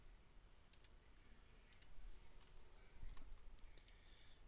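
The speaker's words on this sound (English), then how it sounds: "right click, click paste" Faint computer mouse clicks during copy and paste, a few sharp double clicks spread over quiet room hiss.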